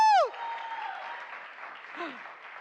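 An audience at a Legacy Talks stage event claps in a sustained, even wash of applause that follows a brief shrill whistling tone at the very start.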